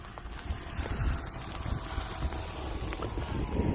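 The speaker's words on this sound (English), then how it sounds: "The wind is coming from the trees down there." Wind blows outdoors at an RC plane flying field, a constant rough rumble buffeting the microphone, steady and fairly loud with no speech.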